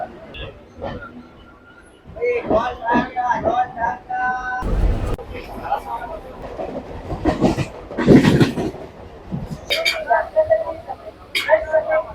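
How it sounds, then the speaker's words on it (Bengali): A local train on the Howrah to Digha line rumbles along under a rhythmic rattle, while passengers talk over it in a busy carriage. "হাওড়া থেকে দীঘা পঁয়তাল্লিশ টাকায় লোকাল ট্রেন ভ্রমণ"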